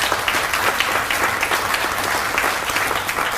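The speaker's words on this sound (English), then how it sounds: "give him a round of applause" Steady, dense audience applause at a Teacher of the Year event, continuous clapping from a crowd throughout.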